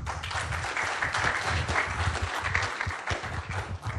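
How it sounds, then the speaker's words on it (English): Audience clapping at an award event: a steady, dense round of applause from a room full of people, moderately loud and continuous. "So that was genuine clapping."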